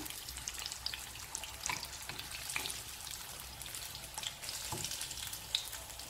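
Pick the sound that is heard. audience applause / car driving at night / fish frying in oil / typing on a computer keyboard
fish frying in oil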